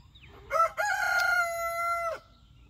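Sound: roosters crowing and chickens clucking

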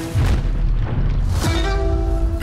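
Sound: gunshot from an old firearm

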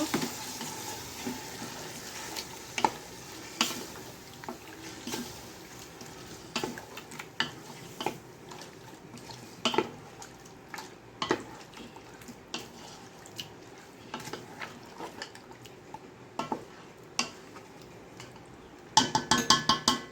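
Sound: stirring and sautéing chicken for tehari in a pan

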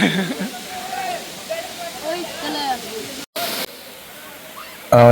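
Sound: Courtallam waterfall rushing water

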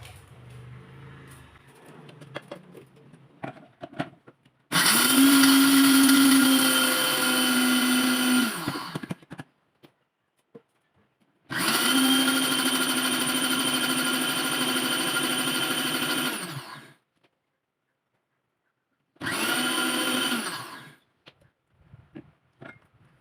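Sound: mixer grinder grinding dried red chillies into powder

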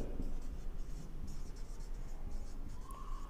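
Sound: writing numerical values on a figure

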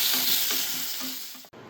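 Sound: bay leaf, cloves, cardamom, cinnamon sizzling in hot oil

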